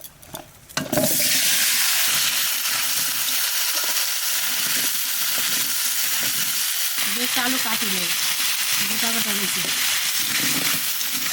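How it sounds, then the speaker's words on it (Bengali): Potatoes fry in hot oil for a Bengali fish curry: after a brief quieter start, a loud, dense sizzle takes over and holds steady, with a faint voice-like murmur partway through. "তেলের মধ্যে আলুগুলো ভেজে নেবো"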